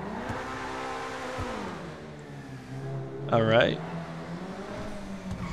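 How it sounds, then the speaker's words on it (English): A car engine in the video game GTA V drones steadily, then rises in a brief sharp rev during a burnout, while someone speaks briefly over it. "Give it a little rev. A little burnout."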